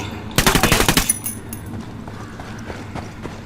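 Rapid burst of gunfire in Tom Clancy's Ghost Recon, a loud fast string of shots over about half a second, followed by scattered fainter clicks and distant shots.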